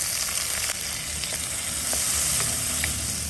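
Chopped garlic, cashews, onion, green chillies and tomato frying in a pan, giving a loud continuous sizzle up close with a few scattered pops and light stirring scrapes, and no talking.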